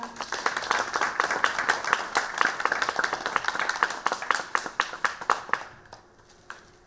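An audience applauds at an award ceremony for a UCC video contest, a steady patter of many hands clapping that thins into a few scattered claps and fades out at the end.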